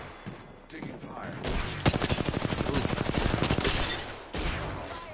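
Sustained automatic gunfire in the video game Apex Legends, a dense rapid burst rattling for several seconds, loud and close, with brief speech over the shots.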